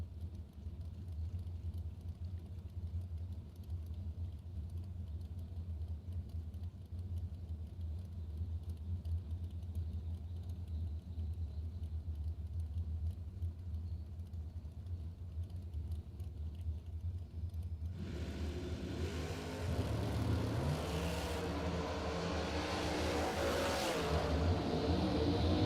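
A 1969 Camaro drag car eases toward the starting line at a drag strip, its engine rumbling low and steady at first, then swelling into a louder, rougher roar near the end.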